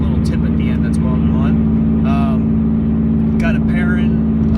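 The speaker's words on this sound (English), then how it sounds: "I got the downpipe on, full, turbo back exhaust, 3-inch straight pipe, no cat, no resonator, no muffler" A tuned Subaru with a 3-inch straight-pipe turbo-back exhaust, downpipe, no cat, resonator or muffler drones loudly and steadily at idle, close by, while a person talks over it.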